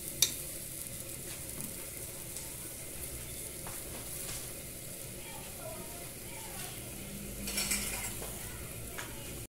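Rice sizzles steadily as it fries in a pan for a home-cooked family dinner, with soft stirring scrapes and light utensil clinks throughout at a constant moderate level.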